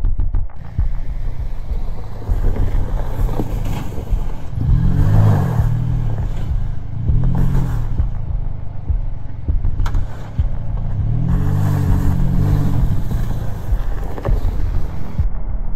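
Chevrolet Colorado ZR2 pickup engine driving off-road: a continuous close engine drone that rises and falls as the truck revs and accelerates over rough ground.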